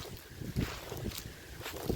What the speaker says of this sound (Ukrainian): а тут уже вітер